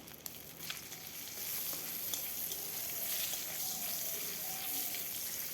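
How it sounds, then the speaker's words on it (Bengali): Nigella seeds and broken green chilies sizzle in hot oil left from frying prawns, a steady crackling hiss with a few sharp pops and light stirring, no voices. "ওই মাছ ভাজার তেলেই আমি দিয়ে দিলাম কালো জিরে, কাঁচা লঙ্কাগুলো এভাবে আমি ভেঙে দেব।"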